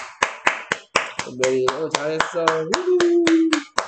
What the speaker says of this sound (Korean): 박수 치자